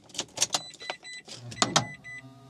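Electric door mirror motor on a Mitsubishi i-MiEV straining in short, uneven whirring bursts, close and fairly loud, with no talking.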